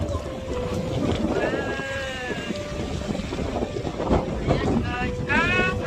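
Steady seaside wind buffets the microphone at a nature reserve on the shore, a continuous rumbling roar with gusts, while faint whistly tones and a voice drift in now and then.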